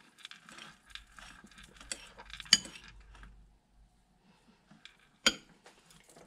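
A metal spoon stirs a salted mixture in a bowl, giving light clinks and scraping taps, with two sharper clinks standing out among soft rustling and quiet gaps.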